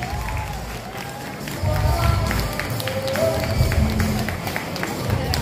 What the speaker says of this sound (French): j'aimerais aussi que vous réserviez un tonnerre d'applaudissements, s'il vous plaît, à l'équipe de la régie